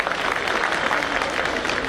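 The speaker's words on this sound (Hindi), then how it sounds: "भाई एनसीआर वाले तो ताली बजाओ।" A crowd at a public speech gives a short, fairly loud stretch of continuous clapping without any talking.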